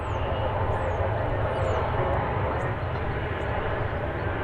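A Dash 8 airliner taxis out of a hangar toward the terminal, a steady low engine drone and rumble heard from a distance, with faint higher chirps on top.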